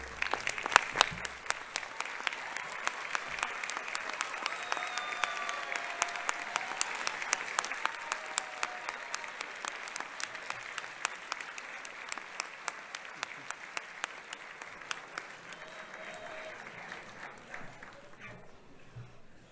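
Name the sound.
applause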